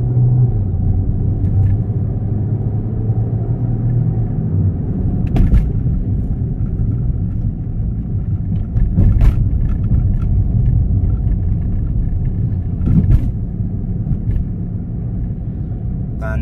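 Car engine at full throttle, a steady low rumbling drone that holds for the whole stretch with brief surges near the middle, close and loud, with a faint voice now and then.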